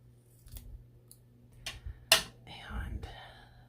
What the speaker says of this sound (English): I'm going to cut this sticker in half.